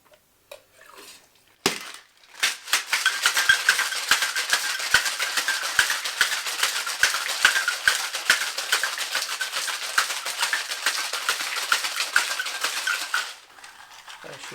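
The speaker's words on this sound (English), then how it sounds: "Get some ice. We're going to give it a shake." A cocktail shaker full of ice shaken for a martini, a loud steady rattle of ice cubes lasting about eleven seconds after a few clinks, then stopping.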